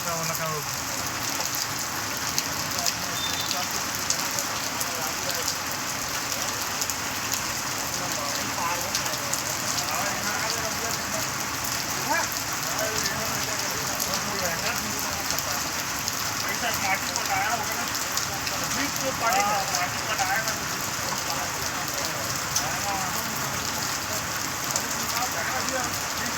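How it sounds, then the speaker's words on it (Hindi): Steady rain falls in Ward 32, Podibahar, Korba, a dense continuous hiss of drops on surfaces that stays even and loud throughout with no clear breaks. "कोरबा के वार्ड क्रमांक 32 पोड़ीबहार में बारिश"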